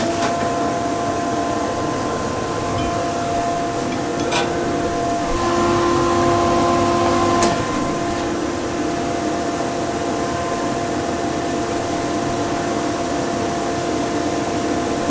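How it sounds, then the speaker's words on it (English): A woodworking dust extractor runs on a lathe setup with a steady, unbroken whooshing drone. It holds an even level, broken only by a faint whine and a couple of brief clicks partway through. "Dust extraction can go on."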